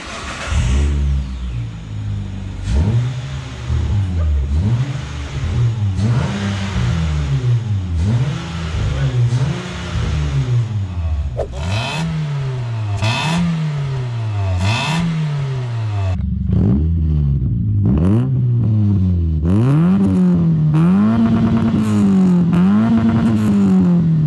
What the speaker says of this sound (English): This is what the cars can sound like with the Canon exhaust on the back.